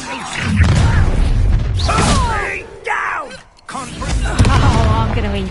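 Confringo spell blasts crash and thud through a Hogwarts Legacy battle, loud booming impacts broken by a brief lull, with creaking mechanical clatter and game character voices shouting alongside.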